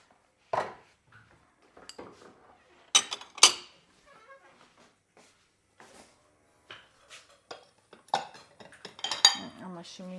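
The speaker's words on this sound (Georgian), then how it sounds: "სანამ შვრია მოიხარშება, გავრიცხოთ რამდენიმე თეფში." Plates and dishes clinking and clattering while being handled at a kitchen sink during morning cooking, scattered sharp knocks and rattles with quiet pauses, and faint talk in between.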